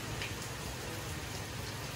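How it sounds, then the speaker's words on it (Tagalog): Steady rain falls during an exterior house painting job, the downpour growing heavier. It is a continuous broadband hiss with faint drop patter, even and moderately loud throughout, with no voices. "medyo lumalakas ang ulan"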